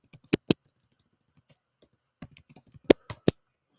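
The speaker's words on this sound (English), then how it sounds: "I know you don't like me typing on the keyboard." Keys clack on a computer keyboard in sparse bursts, a few sharp loud presses separated by softer taps and pauses, close by in a quiet room.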